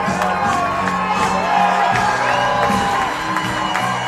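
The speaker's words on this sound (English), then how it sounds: "as you can hear the fans cheering him on" A crowd of fans at the Brett Martin vs Joe Peters fight cheers and shouts steadily, their massed voices rising and falling in a loud, continuous roar.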